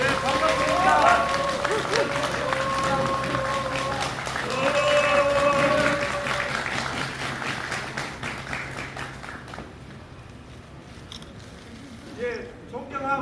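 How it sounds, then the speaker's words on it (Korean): An audience at a candidate's election announcement in Yeongcheon claps in welcome, a busy mix of scattered clapping and crowd bustle mixed with talk and background tones, fading toward the end into quieter scattered noise. "큰 박수 부탁드리겠습니다."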